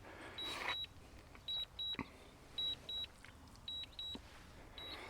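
A DJI Mavic Air 2 drone gives short, high electronic beeps in repeating pairs and single pulses against quiet background noise, with an occasional click or rustle between them.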